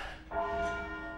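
A single strike of Black Tom, a large church bell as heavy as a small car and rung by rope, rings with a bright clang and a long, sustained humming tone that fades slowly.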